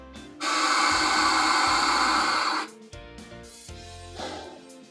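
A long, loud, steady hiss from a Boost Oxygen canister as someone draws a deep breath through the mask, lasting about two seconds, followed by quieter breathy exhales and shuffling.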